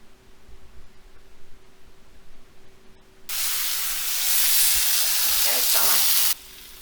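Chili, turmeric and coriander powders sauteed in a pan for a spicy chicken curry burst into a loud, close sizzle that holds steadily for about three seconds, then cuts off, after a stretch of quieter kitchen sound.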